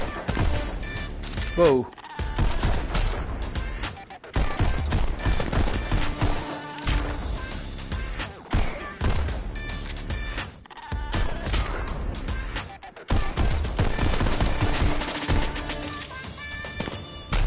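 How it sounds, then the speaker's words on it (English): Enemy gunfire crackles in bursts in the VR shooter Pistol Whip on PSVR, shots layered over a loud, pulsing music track, with a player's brief exclamation in between. "I hate when they shoot at point blank range"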